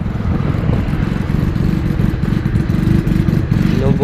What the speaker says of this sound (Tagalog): Inubo na naman ang motor ni Prince Vlogger.